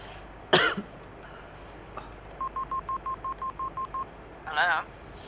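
A telephone number is dialed as a quick, even run of about ten short touch-tone beeps, with a cough and throat-clearing nearby and faint voices in the background.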